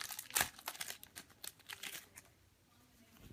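Crinkly plastic rustling and snipping as a Heroclix Age of Ultron booster pack is cut open with scissors, close and quiet, with a brief sharp burst of crackle early and then softer handling.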